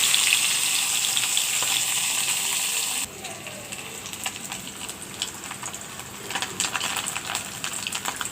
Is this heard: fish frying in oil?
yes